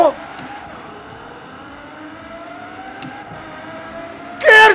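A Ferrari in Forza Horizon 4 cruises through a tunnel, its engine a steady, echoing drone that slowly climbs in pitch before a sudden loud roaring burst at the end.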